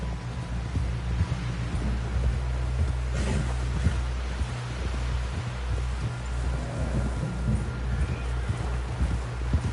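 Horse hooves galloping steadily in a video game, a continuous rapid clip-clop close by, layered over wind and rustling ambience with no talk.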